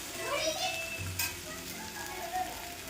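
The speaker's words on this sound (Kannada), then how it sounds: "ಈಗ ಮಟನ್ ಚೆನ್ನಾಗಿ ಫ್ರೈ ಆಗಿದೆ." Malnad-style dry mutton fries in a pan with a soft, continuous sizzle, while children's voices and other talk are heard faintly in the background.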